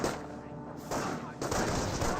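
In Company of Heroes, a Jeep fires on Panzer Grenadiers: quiet, distant bursts of automatic gunfire swell in two waves over a rumbling battlefield bed, with a commentator's voice faintly underneath.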